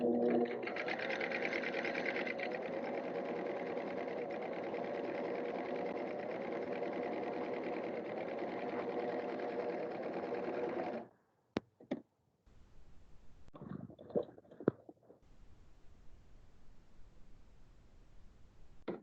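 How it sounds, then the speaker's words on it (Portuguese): A sewing machine stitches steadily along a narrow fabric edge, a continuous close whir for about eleven seconds before it stops, followed by a few short clicks and handling noises. "E vou passar a minha costura nesta bordinha."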